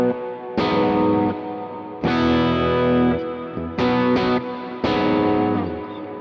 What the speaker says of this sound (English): Listen to what happens when we turn the reverb on.